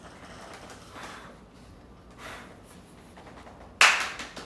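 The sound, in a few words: clapping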